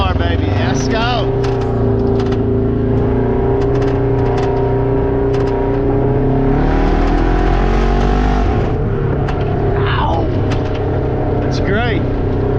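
A Polaris Ranger UTV with a loud Flowmaster Outlaw aftermarket exhaust revs and accelerates hard, its exhaust roaring continuously with shifting pitch, while a voice talks over it.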